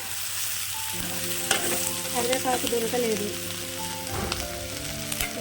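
Tempering spices sizzling in oil in a home kitchen, a steady close crackle with occasional stirring, while someone talks over it.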